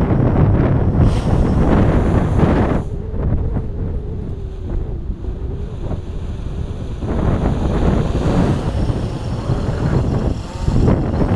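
A Blade 350QX quadcopter drone at full throttle outdoors in Texas, a loud, steady rushing roar heavy with wind buffeting the microphone, easing in the middle before swelling again.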